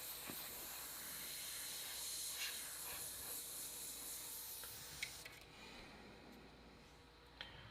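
An Iwata Micron airbrush sprays a steady, faint hiss of air that drops away sharply partway through, leaving a few small clicks.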